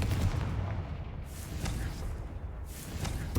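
A Confringo blasting spell explodes in Hogwarts Legacy, bursting as a loud boom with crackling blasts amid steady game combat noise.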